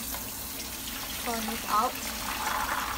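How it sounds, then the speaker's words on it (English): Tap water runs into a kitchen sink as red beans are washed for a confinement dish, a steady close splash with someone speaking briefly over it. "and also wash the bean"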